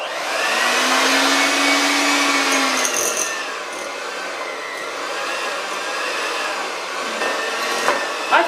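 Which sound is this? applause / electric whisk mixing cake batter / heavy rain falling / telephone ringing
electric whisk mixing cake batter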